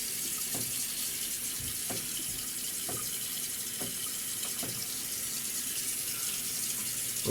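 Tap water runs steadily into a sink during face wetting before a shave, a continuous close hiss of flow with faint clinks now and then.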